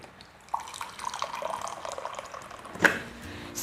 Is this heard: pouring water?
yes